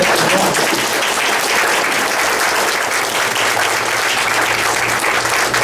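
Sustained applause from a large church congregation welcoming its pastor, dense and steady throughout, with no talking over it.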